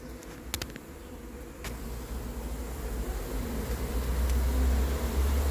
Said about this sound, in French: Elles battent leur appel et elles vont rentrer dans la ruche, on dirait